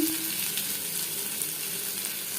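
Whole cumin and garlic frying in oil over a low gas flame, a steady dense hiss and crackle of sizzling that holds evenly throughout, close up with no voices.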